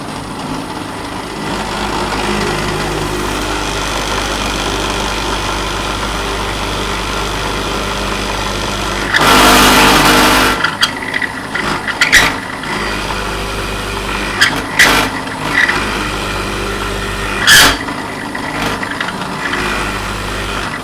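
A power tool cuts two large holes into a Squier Jazz Bass body, a steady mechanical drone broken by a louder burst of cutting and several sharp, brief spikes of noise.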